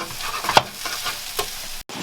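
A prawn omelette frying in a pan gives a soft, steady sizzle, with a few brief scraping stirs and a sharp clink near the start, ending in a moment of silence.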